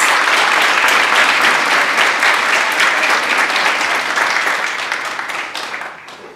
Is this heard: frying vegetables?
no